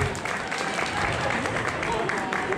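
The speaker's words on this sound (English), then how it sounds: "Can I get a round of applause for Brielle?" Audience at a kids' cosplay contest claps in a warm, steady burst of applause filling a convention hall, with light crowd murmur underneath.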